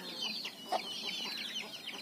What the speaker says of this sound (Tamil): நாட்டுக்கோழி